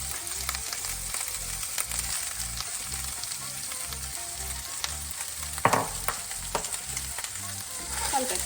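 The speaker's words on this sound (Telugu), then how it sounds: "ఇప్పుడు మనము బాయిల్ చేసి పెట్టుకున్న జొన్నలు, గోధుమలు వేసేసుకున్నాం." Boiled sorghum and wheat grains with green gram stirred and fried in a pan, a steady close sizzle with repeated rhythmic scraping strokes of the spoon and a sharper clatter partway through.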